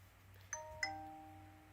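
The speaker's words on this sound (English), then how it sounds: "Ding dong, that's my phone." A phone notification plays a two-note ding-dong chime, faint and clear over a quiet indoor hum, with the second tone ringing out a little longer.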